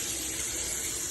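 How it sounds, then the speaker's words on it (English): Hot water runs from a tap to fill a container, a brief, steady gushing hiss at moderate level with no other sounds. "just fill her up with some hot water out of the tap"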